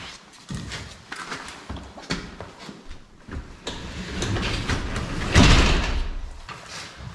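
A stiff shed door being pulled up in frigid weather makes scraping, rattling and knocking, rising into a louder rolling clatter near the end, close by with no talk.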